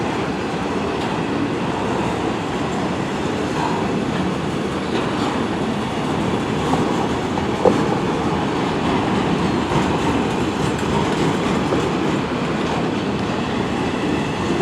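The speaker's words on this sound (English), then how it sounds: "That's a long train." A long CN freight train rolls steadily past, a continuous loud rumble of wheels and rail clatter with occasional clicks and a brief squeal, holding even for the whole stretch with no voices over it.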